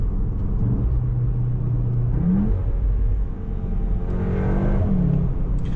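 A Cupra Formentor 310HP engine drones loudly from inside the cabin in CUPRA mode, holding a steady tone that rises in pitch twice as the revs climb.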